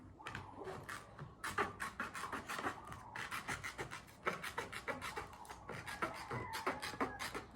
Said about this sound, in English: Cut the rawhide in a circle all the way around.